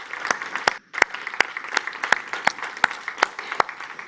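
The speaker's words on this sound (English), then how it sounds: "A big applause for him from Rotterdam." Audience at a youth climate adaptation dialogue applauds a young entrepreneur, steady sharp claps from a small group in a room, one hand clap after another at a fairly even pace, briefly pausing then continuing.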